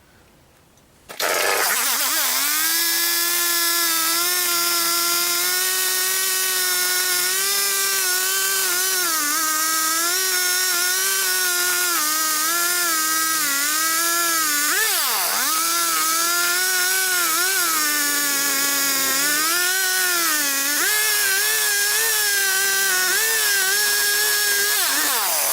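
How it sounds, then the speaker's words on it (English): A bandsaw cuts through a Bradford pear trunk bowl blank. The motor starts with a jump to a loud, steady, humming whine, and its pitch sags and wavers several times as the blade loads in the wood. "I'll take that and clean that up on the bandsaw again"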